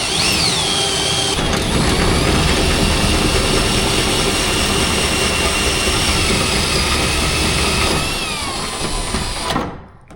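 A drill bores a hole through a Dodge Challenger hood, giving a loud, close, continuous high whine with grinding metal texture that holds for nearly ten seconds before cutting off.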